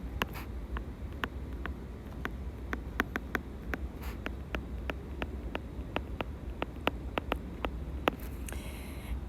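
Pen or marker writing words on a board or page during a math lesson, a series of short, crisp scratching strokes and taps, close and clear over a quiet background.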